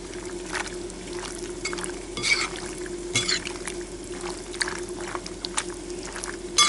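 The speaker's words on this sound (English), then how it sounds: "you can give it a bit of a stir through" Pasta stirred through with its sauce in a pan gives soft, wet squelching and sloshing for several seconds, steady and close, over a faint constant hum with no talking.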